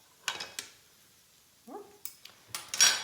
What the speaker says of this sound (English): I'm going to get a couple of different utensils to help me out here.